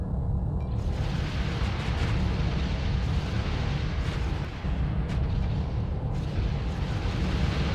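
Weapons fire from starships and explosions in the space combat game Starsector form a dense, loud, unbroken rumble of booms and blasts that overlap with no pause.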